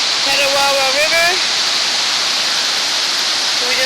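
The Petawawa River rushes in a loud, continuous broadband roar of fast water close by, with brief voiced sounds over it near the start and end.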